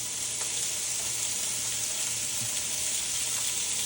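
Ingredients frying in about one and a half spoons of oil in a pan, a steady close sizzle that holds without a break.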